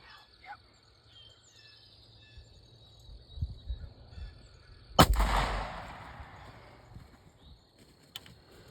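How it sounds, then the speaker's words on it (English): A single loud shotgun blast at a wild turkey during a hunt, sharp and close, following a quiet stretch of outdoor ambience with faint birds and insects, then a lingering rumble as it fades. "Alright, shoot the one on the right, Judah."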